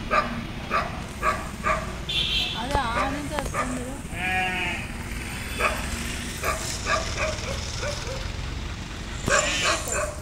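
Dogs bark repeatedly nearby in short bursts outside a hospital, mixed with people talking and general outdoor bustle.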